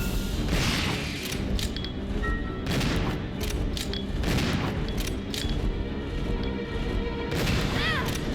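Gunfire in the video game Resident Evil Zero: repeated loud booming shots and crashing impacts in dense bursts, layered with game mechanisms and effects throughout, with a voice briefly heard.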